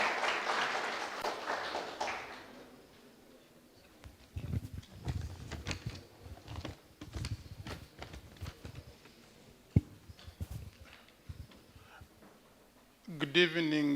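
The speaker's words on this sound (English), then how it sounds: "A big hand clap for him." A crowd at an international dinner bursts into applause that fades after a couple of seconds, followed by quieter voices, shuffling and scattered knocks.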